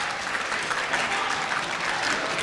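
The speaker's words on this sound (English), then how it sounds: "round of applause for the senator from Kansas" Applause fills a senate simulation hall for the senator from Kansas, a steady dense wash of many hands clapping at even loudness throughout, with no voices rising above it.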